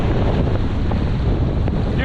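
Strong winter storm wind rushing over a microphone while cycling, a steady loud roar with no pauses throughout.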